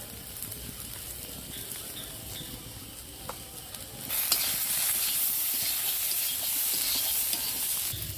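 Spices with salt and turmeric sauté in a pan for a fish curry, with a soft scraping stir at first, then a louder, hissing sizzle that jumps up midway and carries on steadily up close.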